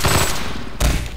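A beta weapon from Half-Life 2 fires in a rapid automatic burst, loud and close, with a second heavy shot cluster near the end.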